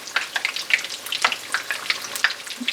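Gluten-free onion rings fry in hot oil, a dense close crackle of bubbling and popping that carries on throughout.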